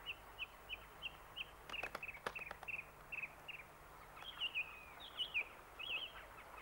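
Small cartoon bird chirping in a children's animated episode about gnomes: a steady run of short, bright high tweets repeated in quick succession, moderately close, with a few sharper trills near the end and no talk over it.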